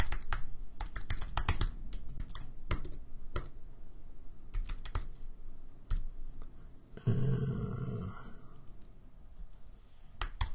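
Typing on a computer keyboard, with irregular bursts of close, crisp key clicks spread across the stretch and a denser rattling patch partway through, with no one speaking.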